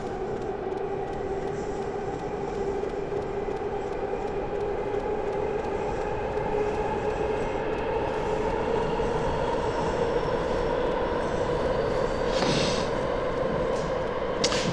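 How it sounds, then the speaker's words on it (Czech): A metro train departs in a subway simulator game, its traction motors whining in a steady tone that slowly rises in pitch as it pulls away, over a constant rumbling hum. "Takhle to vypadá, že vám ujede metro."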